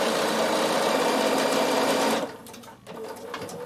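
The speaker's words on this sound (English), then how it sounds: "I'm going to open it up and top stitch both sides open." Bernina sewing machine top stitching an opened boiled wool seam, running steadily and loud up close for about two seconds, then slowing to a softer, uneven stitching pace near the end.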